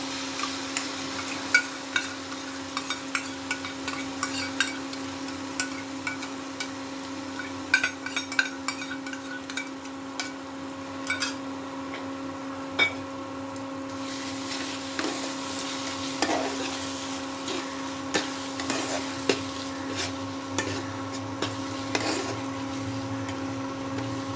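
Mashed pointed gourd with onion, garlic and chili fries in a pan, a soft continuous sizzle with intermittent stirring clicks over a constant low background hum.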